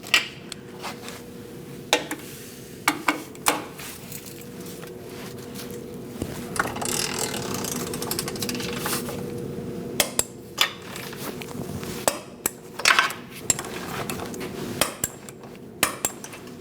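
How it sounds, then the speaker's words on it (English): Torque wrench tightening radiator nuts on a 2000-2006 Mini Cooper 1.6L, with metallic ratcheting clicks and clinks in bursts, close up and with no talking. "We'll go around and torque these nuts to"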